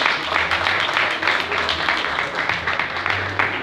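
Audience applause fills an auditorium at a Spanish-language commemorative event, steady and fairly close, lasting a few seconds with light murmuring underneath.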